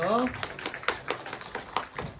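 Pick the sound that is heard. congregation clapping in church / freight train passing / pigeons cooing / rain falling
congregation clapping in church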